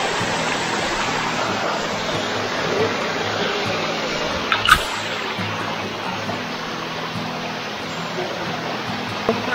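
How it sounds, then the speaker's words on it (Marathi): A hidden waterfall about twenty-five feet tall in the Konkan forest near Shirwali roars with a constant broad rushing wash of falling water, close and loud throughout, with a faint brief click midway. "अप्रतिम असा एक लपलेला धबधबा निसर्गामध्ये"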